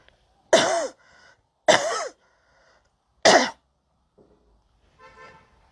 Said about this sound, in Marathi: का बरं मला खोकला येतोय का माहिती?